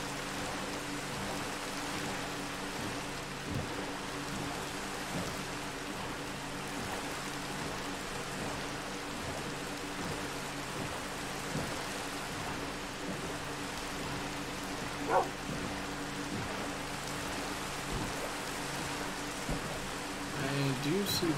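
Steady rain falls in the Minecraft video game world, a constant even hiss throughout with a few faint clicks over a low hum.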